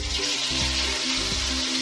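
Fish sizzling in hot oil in a pan for sweet and sour fish, a steady close frying hiss with faint bubbling, no talking over it.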